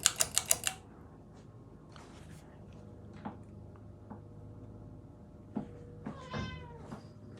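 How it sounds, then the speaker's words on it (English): A cat meows up close, with a drawn-out vocal cry near the end, against a low background hum from a Sears ceiling fan, preceded by a quick burst of clicking taps. "Don't mind the cat"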